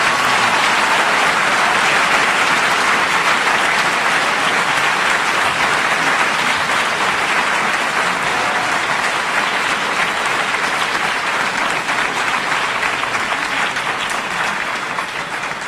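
Sustained applause from a large audience at a 2014 congressional candidate forum, dense and steady clapping that fills the room and fades slightly at the end.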